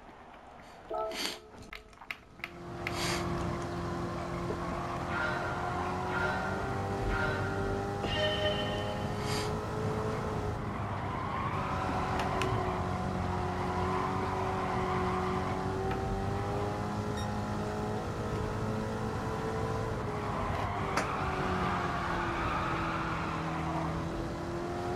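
A race car laps a circuit in Gran Turismo 7, its engine humming steadily and revving up and down through gear changes, after a few sharp menu clicks at the start.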